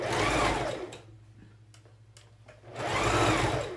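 Sewing machine stitching binding over the pleats of a child's face mask, a close, loud whirring run that slows to a low hum with soft ticks in the middle, then speeds up again into a second full burst.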